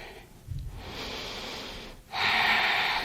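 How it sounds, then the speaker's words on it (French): Deep, slow breaths during a hip-opening yoga session in butterfly pose: a short snort-like intake, then two long airy exhalations, the second louder and closer, with no talking. "Et on prend des respirations profondes."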